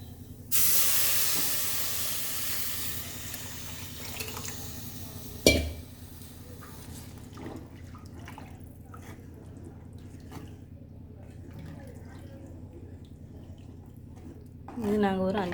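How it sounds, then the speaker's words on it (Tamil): Tamarind water poured into a cooking pot, a steady loud hissing splash from the start that tapers over several seconds, then a quieter simmering background with a few faint clinks and a stir near the end. "நம்ம இப்போ புளி கரைச்சலை ஊற்றிடலாம்."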